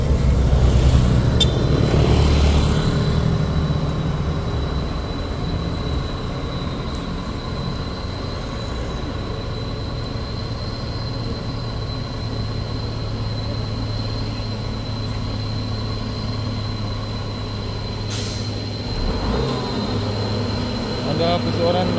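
A heavy truck engine labouring and revving as it climbs the steep Bukit Kodok hill, a steady loud drone with a faint high whine throughout and a louder surge near the start.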